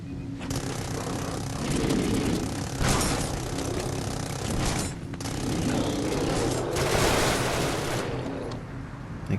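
Automated turrets in the Genesis Alpha One game fire in dense, sustained bursts, a loud continuous rattle of gunfire that swells and eases over several seconds with no talking.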